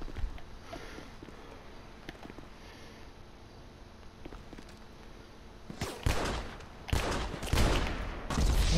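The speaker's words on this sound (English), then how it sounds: "I'm shooting you with a pistol." Pistol shots ring out in a video game shootout: a quiet stretch with faint scattered taps gives way to a cluster of loud, sharp gunshots near the end.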